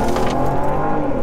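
A Volvo V60 engine revs hard under acceleration, heard from inside the cabin as a loud, steady, droning roar with no talk over it.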